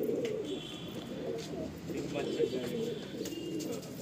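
Pigeons in a breeding loft cooing in low, murmuring coos that blend into a dense, continuous background, with a voice talking faintly underneath.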